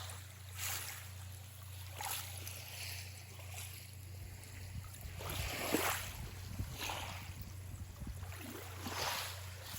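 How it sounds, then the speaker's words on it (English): Gentle water lapping against seashells on a Florida island beach, soft recurring washes arriving every couple of seconds over a low steady hum and breeze, quiet and close. "There is a certain sound when the water is lapping up against the shells versus the beach."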